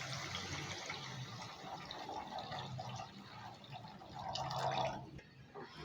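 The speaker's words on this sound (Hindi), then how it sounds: "अब इसमें डाल देना है पानी।" Water poured from a glass into a pot of Sindhi-style fish and potato curry, a soft, fairly faint splashing and trickling that swells toward the end, heard alone without talk.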